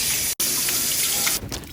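A kitchen tap runs as cucumber and lemon are rinsed under it, a steady close rush of water with a brief cut near the start and a softer, uneven splash toward the end.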